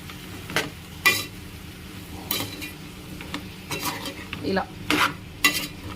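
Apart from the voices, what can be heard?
stirring ivy gourd (dondakaya) fry with salt in a pan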